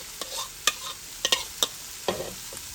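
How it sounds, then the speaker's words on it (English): Mashed bean patties fry quietly in a pan, a soft sizzle broken by a handful of sharp crackles and pops spaced irregularly, close and with no voices. "you're just going to just lay them in your pan and kind of mash them down a little bit."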